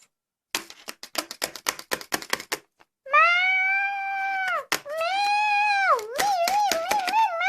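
Several drawn-out cat meows, loud and close, following a rapid series of sharp tapping clicks; no talking.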